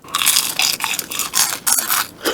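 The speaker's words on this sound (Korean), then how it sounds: "씹는 소리는 진짜 좋은 것 같아요" Loud, close crunching bites of crispy fried chicken, a run of crackly chews in quick succession with no talking.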